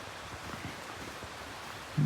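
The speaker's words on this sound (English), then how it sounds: "I can hear the water. So you should have a nice little stream right here." A small mountain stream beside a meadow trail flows steadily as a soft, continuous broadband rush, faint and unbroken, with no voices over it.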